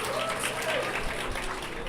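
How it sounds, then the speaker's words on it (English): Brief, fairly quiet round of applause from a crowd at a county fair livestock judging show, clapping for the exhibitors with some talk over it. "Let's show our appreciation to these exhibitors with a big, big round of applause."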